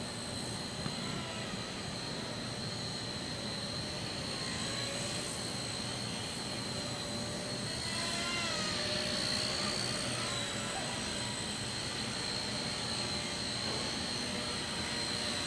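A small Nano CP S RC helicopter flies nearby, its high-pitched rotor and motor whine droning continuously at moderate volume, with slight pitch shifts as it maneuvers.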